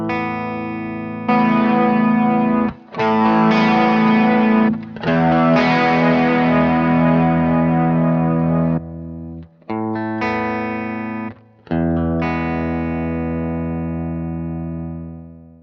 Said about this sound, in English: you'll see that both the chorus and the distortion should be activated